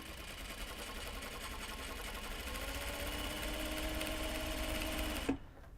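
A sewing machine stitches a knot bag, backstitching around a curve, with a fast steady mechanical chatter that runs evenly for several seconds before stopping abruptly with a small clunk.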